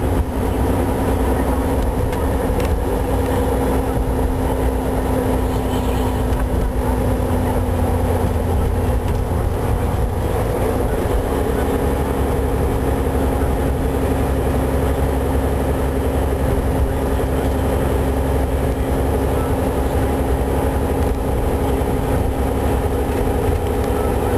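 A Volvo car is left in drive while climbing a hill, giving a steady, loud, continuous engine and road drone from inside the cabin with no talking.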